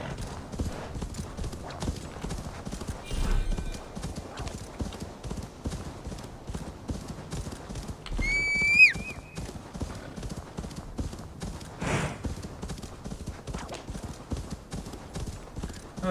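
A horse gallops in Assassin's Creed Valhalla with a rapid, steady clip-clop of hooves running throughout, briefly broken by a short whinny. A voice talks faintly underneath.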